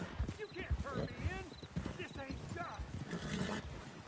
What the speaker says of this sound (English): Asustado mi caballo, tío.